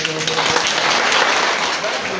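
An audience at a talk-show event performs a rain clap, a dense, sustained patter of many hands clapping together that swells slightly in the middle, with voices mixed in.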